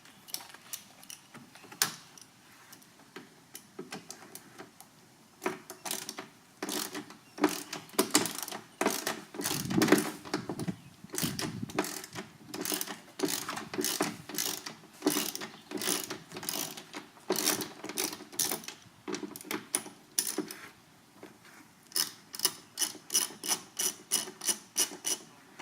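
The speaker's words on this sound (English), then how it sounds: "this bolt right here that we're going to use a hex bit to remove" A ratchet fitted with a T30 Torx bit loosens a trunk screw on a 2016+ Gen 6 Camaro. Rapid, close pawl clicking comes in repeated bursts with brief pauses between strokes.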